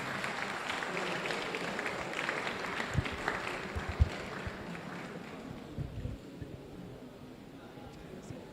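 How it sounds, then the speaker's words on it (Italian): An audience applauds to welcome a speaker at a training institute during an official visit, with dense clapping that holds steady, then thins and fades, under some talking and murmur. "let's welcome him with a round of applause, please"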